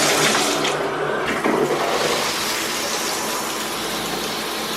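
Steady, full rush of shower water running in a home bathroom, loud and close, continuous and unbroken throughout with no voices.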